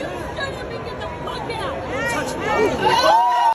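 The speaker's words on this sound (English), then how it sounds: "You hear the crowd react" Crowd reacting to a slap, a rising murmur of chatter and exclamations from many people that swells louder toward the end of the moment.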